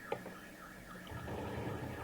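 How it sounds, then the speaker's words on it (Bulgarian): A car alarm sounds in the background as a steady, wavering electronic tone, faint and distant, over a low rumble. No one speaks. "Съжалявам, че чувате алармата"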